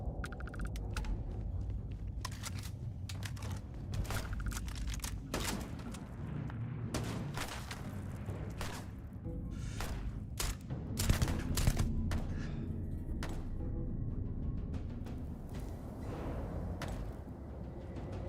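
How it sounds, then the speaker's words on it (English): Gunfire in the space game Starfield, rapid bursts and single cracks scattered irregularly over a continuous low rumble, loud and close with no talking. "Wait, what are you shooting?"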